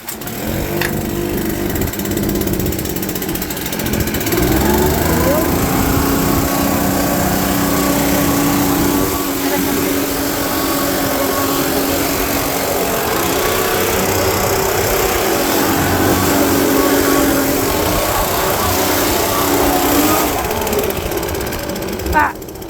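A small snow blower engine runs steadily at a sidewalk entrance on a windy day with snow drifts, a loud, close, droning whine that holds for the whole stretch before cutting off near the end.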